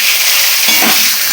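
Potatoes dropped into hot oil already flavoured with bay leaf and cumin, giving a loud, close, continuous frying sizzle with a slight bubbling surge as they settle.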